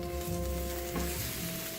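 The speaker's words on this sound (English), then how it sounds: "You can literally hear the sizzle" Roasted squash with blood orange and rosemary, just out of a 45-minute roast, sizzles steadily as it is tossed, a close, continuous crackling hiss with faint stirring scrapes and no talk.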